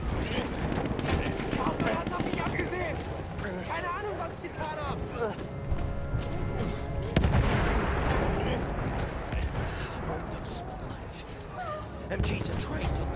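Battlefield 1 single-player battle in no man's land, with continuous dense gunfire and heavy blasts churning under a constant din, punctuated by a loud impact around midway, while voices speak over the chaos.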